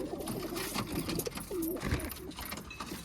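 Baby pigeons in a pigeon setup coo softly and repeatedly at close range, low gurgling calls over a constant background hum.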